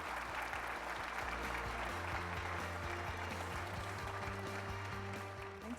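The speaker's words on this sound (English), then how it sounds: "Can we get a round of applause for our distinguished panel?" Sustained applause from a large audience for the panel at the opening session of a mining and construction equipment expo, dense even clapping throughout with a steady low hum underneath.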